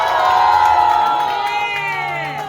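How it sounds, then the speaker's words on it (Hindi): A festive Teej crowd at a shopping mall cheers and shouts loudly and continuously, with whoops and children's voices rising over a dense wash of noise that fades slightly toward the end. "एक बार जोरदार तालियां प्लीज"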